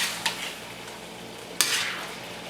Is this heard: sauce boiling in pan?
yes